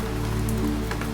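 Rain falls steadily, a soft, even patter across the surface with a few closer drops standing out in a very short stretch.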